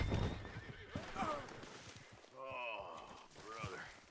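A horse in Red Dead Redemption 2 lets out a loud, quavering whinny near the end, after a few close hoof thuds and snorts, with someone speaking briefly over the start.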